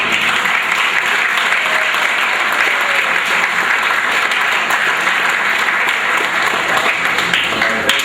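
Banquet guests at a school senior sports dinner give a big round of applause, a dense, sustained clapping from a full room that holds steady and loud throughout.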